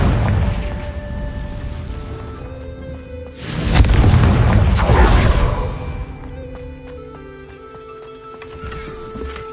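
Confringo fire spell in the game Hogwarts Legacy bursts into a loud, deep booming explosion with a whooshing rumble that swells, then fades slowly beneath background game music.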